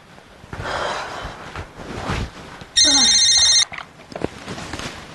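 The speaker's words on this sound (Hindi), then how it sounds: "अरे सासू माँ जरा देखो तो सही किसका फोन है।" A household telephone rings in one short, loud electronic burst, surrounded by gasps, breathing and brief vocal sounds.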